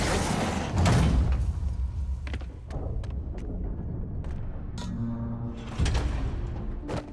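A heavy trap door opens in the Spider-Man video game during the Wheels Within Wheels mission, heard as a rumbling, scraping slide with several sharp knocks and thuds over about seven seconds of steady game ambience.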